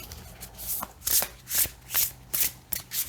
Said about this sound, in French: Elles sont super agréables à brasser parce qu'elles chantent.